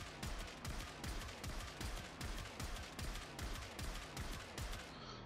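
Rapid, evenly spaced weapon shots fired at an Ambulus robot in the sci-fi shooter Warframe, a steady loud burst of repeated bangs with no talking.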